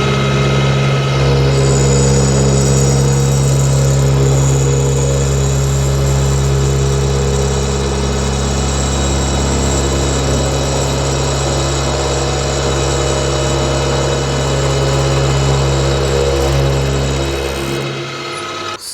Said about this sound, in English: see how it mills. So we're gonna place it up here in the vise,